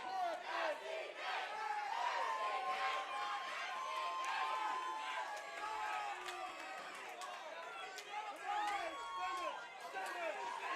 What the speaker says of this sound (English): Listen to this crowd, guys